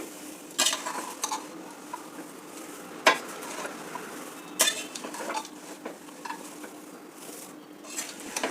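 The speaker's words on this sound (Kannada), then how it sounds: "ನಿಧಾನಕ್ಕೆ ತಳದಿಂದ ಈ ಥರ ಸೌಟು ಹಾಕಿ ಈ ಥರ ತೆಗಿಬೇಕು" Flattened rice (poha) being gently turned from the bottom of a pan with a ladle as it fries, giving a soft steady sizzle broken by several sharp metallic scrapes and clinks of the ladle against the vessel, with no talk.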